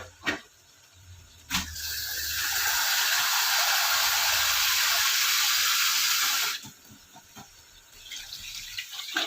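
Water pours steadily onto a kilo of pork for Filipino adobo, a sustained splashing hiss lasting about five seconds, close and fairly loud, with brief clatter before and after.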